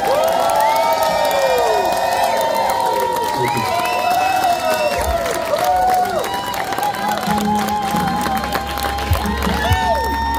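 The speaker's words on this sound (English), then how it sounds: "everybody give a round of applause to Nick." A crowd at a tiki bar cheers, whoops and claps for Nick during a celebration with cake, lively shouting voices and scattered clapping layered over music throughout.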